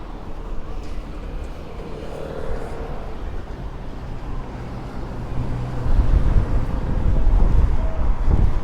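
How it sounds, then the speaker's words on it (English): Wind buffets the microphone with low, rumbling gusts on a Mallorca roadside between Palmanova and Son Caliu, growing stronger and louder toward the end, masking the background. "Oh, it's windy, windy, windy."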